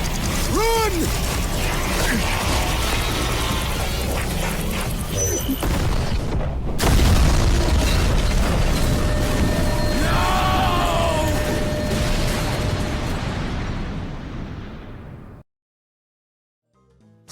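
Bomb explosion in the video game TDS: Origins, a loud, sustained rumbling blast that follows mechanical clatter and shouted voices, then cuts to silence near the end.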